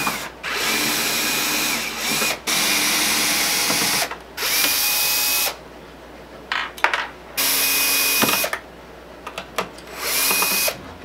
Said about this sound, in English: A long skinny drive works the best for this.